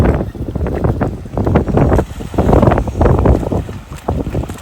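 A small taxi boat crashes through choppy sea on a very windy day, with wind buffeting the microphone and waves slapping the hull in bursts.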